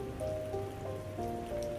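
Rain patters steadily over a soft tonal ambient drone in the game South of the Circle, a short, even, moderately quiet wash with no voices.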